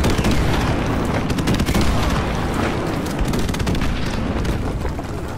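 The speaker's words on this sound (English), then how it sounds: "Airstrike, airstrike." Dense, continuous rumbling blasts of an airstrike roll through a Call of Duty: Modern Warfare Remastered match, loud and heavy with crackling debris layered throughout, no voices on top.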